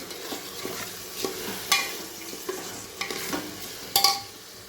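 Soaked toor, chana and moong dal sauté in a pan for khichdi, a soft sizzle under repeated spoon stirs and scrapes, with a couple of brighter metallic clinks against the pan.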